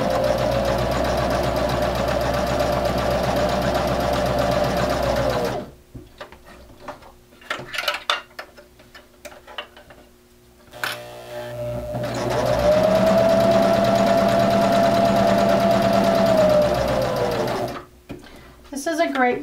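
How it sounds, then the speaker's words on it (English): A sewing machine stitches fabric around a small screen cleaner with a steady close whirring hum, pauses while the corner is turned with soft handling clicks, then resumes a sustained run. "I'm going to stitch to the corner, turn, and go all the way around"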